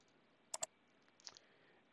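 Computer mouse clicked twice in quick succession, sharp close clicks over quiet room tone, followed by a fainter pair of soft ticks.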